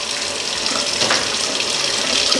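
Tap water runs steadily into a sink in a home kitchen, a continuous close splashing hiss with no talk over it.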